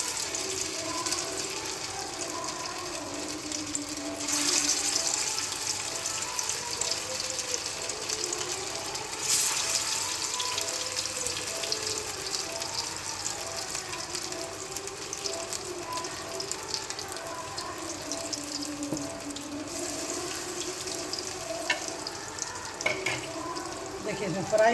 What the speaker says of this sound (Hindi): इसको इस तरह से देखिए डाल दें, इसको फ्राई करना।